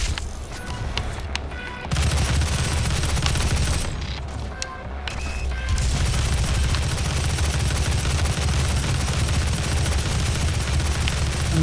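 Heavy, continuous gunfire and explosive impacts from DOOM 2016 fill the whole stretch, loud and dense, briefly easing twice before the barrage resumes.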